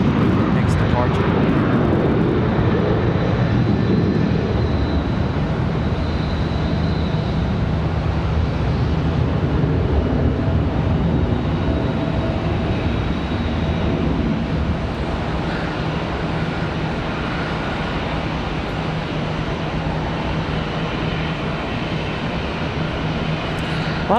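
A Boeing 737-800 airliner departs Charlotte Douglas International Airport with a broad, steady engine roar that holds loud throughout, while a voice talks over it.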